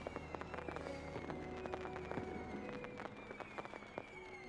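Fireworks bursting in a video game, a steady crackle of small pops and bangs under a continuous background soundtrack, fairly quiet throughout.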